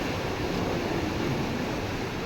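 Floodwater rushes near Pong Dam in Talwara, a constant broad roar like heavy surf that holds at the same loudness throughout, with no voices.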